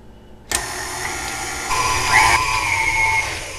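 A stand mixer motor starts abruptly and runs steadily while whipping cream for a chocolate peanut butter torte, a close, even whir with a rising whine partway through and no talking.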